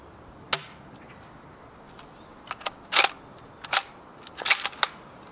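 A DBOY KAR98K air-cocking airsoft rifle fires a sharp, close snap, followed by several further crisp clicks and clacks of handling and cocking in an otherwise quiet setting.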